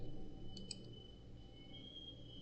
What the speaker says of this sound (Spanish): Entonces le dan clic.